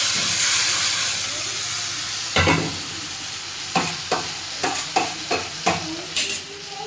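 Chopped ingredients for eggplant bharta sizzle in a hot pan while being stirred, with a steady frying hiss broken by a series of sharp scraping strokes, close and without talk.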